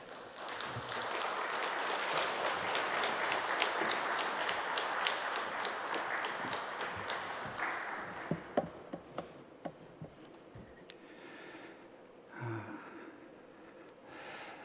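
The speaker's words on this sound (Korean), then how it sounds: "나오실 때 박수로 우리가 맞이하겠습니다." A church congregation at a Saturday dawn service applauds to welcome a speaker, the broad clapping swelling briefly, then thinning into scattered, fading claps before near silence.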